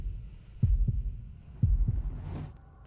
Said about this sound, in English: Heartbeats.